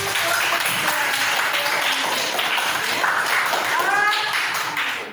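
A class of students claps hands together in a classroom, a dense burst of overlapping claps lasting several seconds, with a teacher's voice and chatter mixed in.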